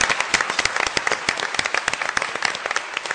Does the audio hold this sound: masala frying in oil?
no